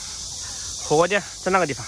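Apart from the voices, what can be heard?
many cicadas chirping by a river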